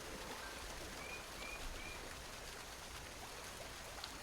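Soft, steady flowing water heads toward a waterfall in a relaxation soundscape. A faint, even wash continues throughout, with a few thin bird chirps high above it and no talking.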